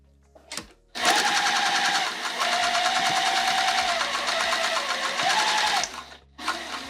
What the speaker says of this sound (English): So I'm gonna sew right along here.